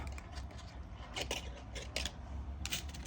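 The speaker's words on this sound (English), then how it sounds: "I'm going to cut a little bit of this wire off" Quiet, close snips and small metallic clicks as a piece of jewelry wire is cut with cutters while making butterfly earrings, several short crisp bursts over a faint background.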